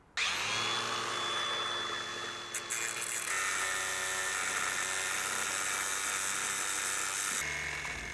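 A power tool whines at high speed while cutting boat rudder pins shorter, a sustained buzzing grind that shifts pitch midway and drops near the end.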